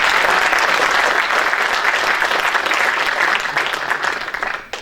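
Sustained audience applause at a software community conference Q&A session, dense and loud clapping that holds steady and then tapers off toward the end, with a few voices faintly underneath.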